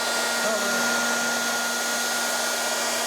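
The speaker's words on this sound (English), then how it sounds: "And now we'll use this Makita wireless heat gun to warm up the film on the" A Makita cordless heat gun runs steadily while warming the film on the back of a Toyota RAV4 cover, giving a close, constant blowing whir with a faint tonal hum throughout.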